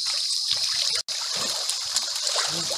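Water trickling and splashing while catching crabs outdoors, a continuous close dribble with small splatters and a brief cut in the sound, faint voices around.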